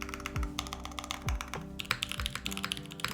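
Typing on an Urskog tray-mount mechanical keyboard: a quick, uneven run of clacky keystrokes at close range, with a few heavier bottoming-out thocks scattered among the lighter taps.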